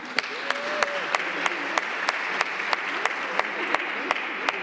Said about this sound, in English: Let's give him another round of applause, everybody.